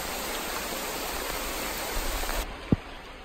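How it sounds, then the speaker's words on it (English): A big waterfall rushes in a steady, loud broadband roar that fills the whole stretch, with a brief thump near the end. "All right, we found a waterfall"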